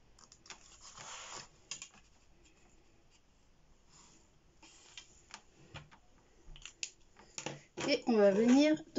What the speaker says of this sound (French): Et on va venir donc les découper.